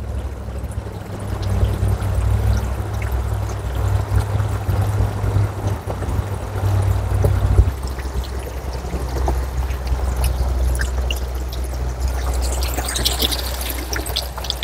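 RC submarine hull draining as its pump pushes water out, a continuous pouring, trickling wash with a low motor drone underneath, steady throughout and close, without talk.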